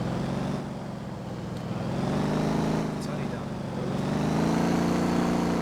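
Engine of a car driven in the video game Motortown: a steady, droning motor with slowly shifting pitch as it speeds up and eases off, heard under continuous talking.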